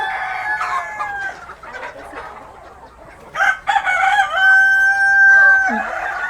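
Paraoakan native chickens in a pen, with a rooster crowing twice in long drawn-out calls amid scattered clucks from the flock, close and fairly loud.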